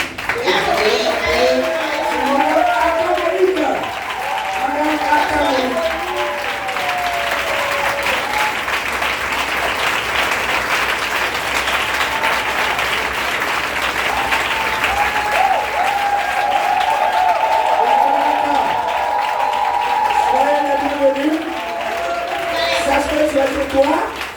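A church congregation applauds loudly and continuously, many hands clapping in a dense roar, while a voice speaks or sings over the clapping throughout.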